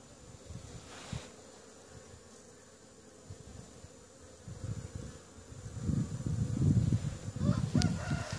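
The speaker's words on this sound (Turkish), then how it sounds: "Arı uçuşu yapıyorlar." Faint buzzing of honeybees flying around hives outdoors in December, a soft continuous hum that grows busier toward the end, with a rooster crowing briefly in the distance.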